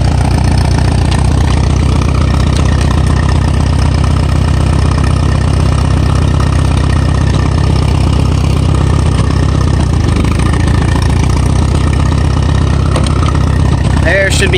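An Allis Chalmers D17 tractor engine runs steadily at idle while the gears are shifted, a loud, continuous low rumble with faint mechanical clunks and no pauses.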